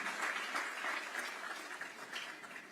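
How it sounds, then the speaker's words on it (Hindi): A crowd applauds steadily, a dense wash of clapping from many hands without a break. "इस बात के लिए तो जोरदार तालियां बनती हैं"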